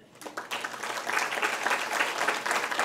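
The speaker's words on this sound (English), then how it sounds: "Can I see everybody clapping loud together?" Audience at a conference talk bursting into loud, sustained group clapping after a few scattered early claps, dense and steady to the end.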